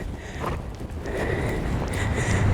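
A horse trots under a rider in steady two-beat hoofbeats, close by, with wind and movement noise running throughout.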